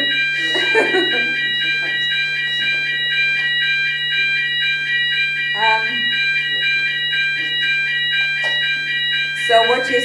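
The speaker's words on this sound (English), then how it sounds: "Is this a fire alarm?" A fire alarm rings in a lecture hall with a loud, continuous pulsing electronic tone that persists throughout, while people talk and shift about underneath it.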